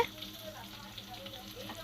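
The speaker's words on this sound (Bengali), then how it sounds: "তো এইগুলো একটু আমি ভালো করে ভাজবো।" Vegetables fry in a pan with a low, steady sizzle that stays even and fairly quiet for the whole short stretch, with no voices.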